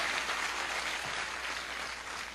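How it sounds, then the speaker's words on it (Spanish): An audience gives a big round of applause, dense and steady clapping throughout, loud and close, easing slightly toward the end. "Un gran aplauso para todos."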